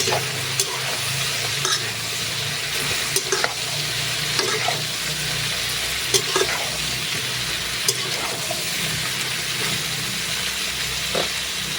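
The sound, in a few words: sponge gourd sautéing in a pan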